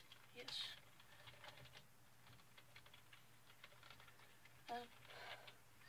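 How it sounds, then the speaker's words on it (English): Keys clatter on a computer keyboard as a child practises typing for online schoolwork, in faint, quiet bursts near the start and again toward the end, with soft room background between them. "You're supposed to type that word that many times, yeah?"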